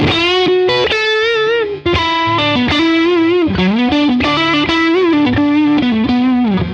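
Gusta Harel S125 electric guitar played through an overdrive effect, a run of distorted melodic notes and bends, loud and close, with no talking.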